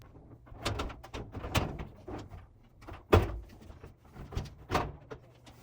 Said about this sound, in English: now we can remove the bulkhead by lifting up and pulling at the same time.